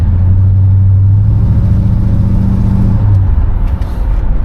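A 1973 Chevrolet Caprice engine sends a heavy, steady low rumble from inside the moving car, with a deep tone that rises briefly then eases off, and no talking.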